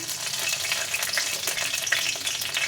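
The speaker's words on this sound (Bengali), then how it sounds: "আবারও সর্ষের তেল দিয়ে দিচ্ছি তেজপাতা দিয়ে দিলাম" Bay leaf dropped into hot mustard oil in a wok gives a steady, close, bright sizzle with fine crackling and a few light stirring taps, with no voices.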